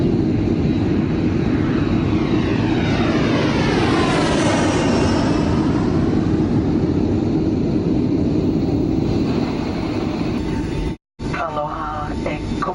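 An airplane takes off from an island airport in Hawaii. The loud, constant engine roar rises as the pitch sweeps upward, and a brief gap comes near the end.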